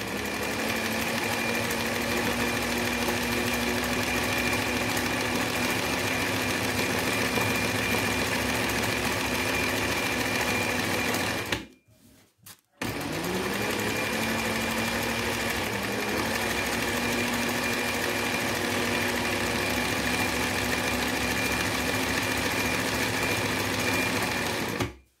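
An embroidery sewing machine stitches in a fast, even mechanical drone, pausing briefly near the middle before starting up again and continuing steadily, with no voices over it.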